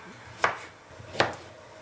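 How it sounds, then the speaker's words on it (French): A knife cutting carrots diagonally on a board gives two crisp, separate chops, light and close, with a pause between them and no other sound. "Je vais découper mes carottes. Je vais les découper en biseaux."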